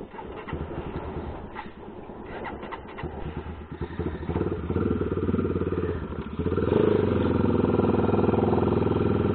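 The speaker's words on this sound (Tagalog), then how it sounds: "Testing namin yung performance ng 32 niya doon sa kanyang motor" A Kawasaki motorcycle engine idles with a rattly putter, then revs up and settles into a louder, steady roar close by.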